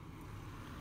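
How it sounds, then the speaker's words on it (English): Steady low rumbling wind buffeting a microphone outdoors beside a car's engine bay, a constant broadband roar with no talk over it. "Sorry, it's really windy out here, so I hope it's not too loud for you guys."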